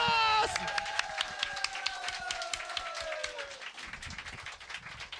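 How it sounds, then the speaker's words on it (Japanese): An audience at a BlazBlue Chronophantasma Extend fighting game tournament applauding, with distinct, rapid claps from a modest crowd over a sustained tone that fades out. The clapping thins and quietens toward the end. "立川勢が称賛の拍手を送っております"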